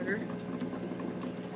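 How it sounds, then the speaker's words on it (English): An air pump pushes air into the water chamber of a Tropic Aire reptile humidifier, giving a steady, close bubbling and gurgling that is low in level, with a voice partly over it. "the bubbles come up, and it is just putting air in the chamber"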